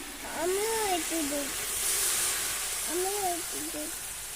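Water is poured into a spinach curry cooking in a pan, and it sizzles with a steady, close hiss of steam. A voice briefly sounds over it twice.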